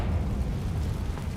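Confringo spell blast in the Hogwarts Legacy video game, a continuous rumbling, fiery explosion heavy in low end, loud and sustained.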